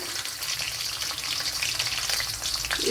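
Garlic cloves dropped into hot oil in a frying pan, crackling and sizzling loudly and continuously up close, with no speech.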